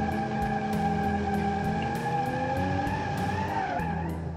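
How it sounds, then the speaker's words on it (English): A 1975 car with an inline-six engine does a burnout in the BeamNG driving game, its tires squealing loudly and continuously over a steady revving engine, with the pitch wavering near the end. "It can do some burnout"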